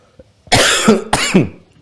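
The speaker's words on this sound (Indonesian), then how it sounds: "Saya udah izin batuk tadi ya" Two harsh coughs close by, one after another with a short pause between, each ending in a rough rasp.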